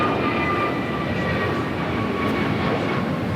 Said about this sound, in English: Virgin Atlantic, making the left-hand turn on to Lima